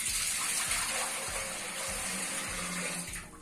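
Three litres of distilled water poured into a distiller tank, a steady close gushing and splashing stream that tapers near the end, with no voices.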